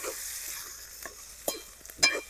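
Oil, onion, tomato and ginger being stirred together in a pan for a Gujarati whole-eggplant oro, giving soft intermittent scrapes and light sizzling, faint and close, with a few sharper clatters near the end.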